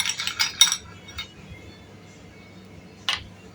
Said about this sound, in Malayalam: ഇത് അതിൻ്റെ അകത്ത് രണ്ട് മൂന്ന് ഐസ് കട്ട ഇടുക